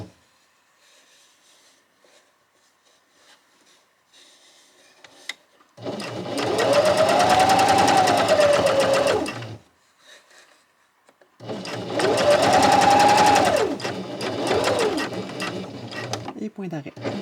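A sewing machine stitches along a fold to close a flat-felled seam, running steadily in two long whirring bursts of several seconds each with a short pause between them.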